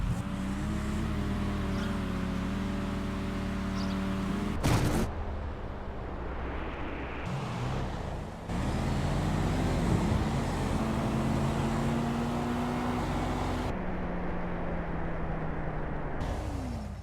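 Drag racing cars launching in the GTA video game, in a Street Outlaws No Prep Kings style race: steady engine drone with revving pitch sweeps and abrupt cuts, loud and close, with no talk.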